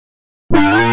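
Lead synth voice in Kontakt triggered from guitar via MIDI: after half a second of silence, one bright, harmonically rich note starts abruptly and holds steadily at full level.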